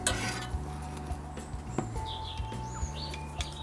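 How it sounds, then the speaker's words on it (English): Bread for a grilled cheese sandwich flipped with a metal spatula on a buttered flat top grill, giving a few close scrapes and clanks over a steady sizzle and low hum. "I'm going to flip this bread now."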